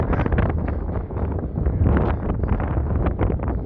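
Gusty wind buffets the microphone on a grey Blackpool seafront promenade, a steady broadband rush with rising and falling gusts throughout, loud and close.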